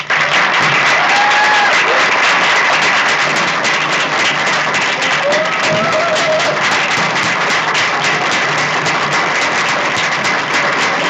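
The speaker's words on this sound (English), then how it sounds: "show Drew our appreciation of all of his contributions to Mountain Academy and Journeys with a round of applause" Dense, sustained applause from a large crowd at the 2022 Mountain Academy graduation ceremony fills the whole stretch at a steady, loud level, with a few faint high whistles riding on top.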